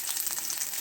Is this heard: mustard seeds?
yes